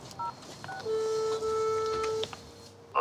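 Tones of a telephone keypad sound as a number is dialled, a few short beeps followed by one long steady tone, a call made by a doctor checking on an employee's sick leave, with no talk over it.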